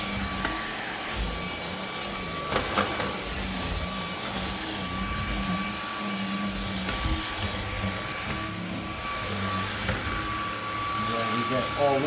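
Eureka React Sense cordless vacuum cleaner with anti-tangle brushroll running over hardwood floor and rug, a steady whirring motor hum with a faint high whine, continuous and close, with a person talking over it.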